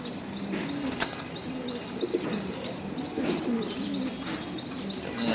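Racing pigeons, a homing bird back after going missing from a Sirajganj race, coo in steady repeated rounds close by, with a faint wing flutter and a few chirps, no voices.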